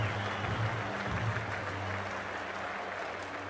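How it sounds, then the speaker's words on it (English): A large stadium crowd in a cricket video game cheers and applauds steadily as an ODI World Cup match between India and New Zealand gets underway, a dense continuous roar with faint commentary underneath. "already the crowd is up and about"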